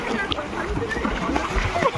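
Water splashes and sloshes in a hotel swimming pool in Digha as someone swims, with irregular close splashes under a family's chatter.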